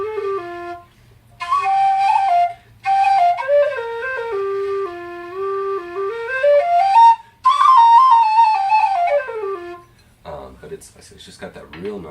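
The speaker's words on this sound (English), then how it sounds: "I have my lighter, quicker F whistle" A Chieftain Thunderbird F whistle plays a lively, quick melody of bright sustained notes and runs with short breaths between phrases, loud and close, with no talk.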